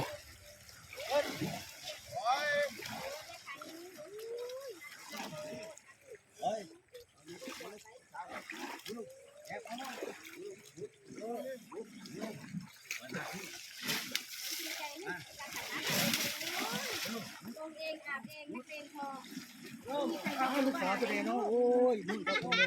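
Two daughters splash and play in water while bathing. Irregular sloshing, splattering and gurgling comes in bursts at close range, mixed with frequent talking and chatter throughout.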